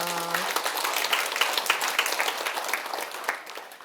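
Audience applause at a Korean talk on life and fortune-telling, a dense burst of clapping that sets in after a short tonal note and then thins and fades toward the end.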